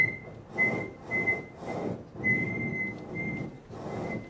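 A pure 1.6 kHz test tone with a whistle-like quality, sounding in several short bursts of a second or so with brief gaps, played over a church sound system during an audio seminar, with low background rumble.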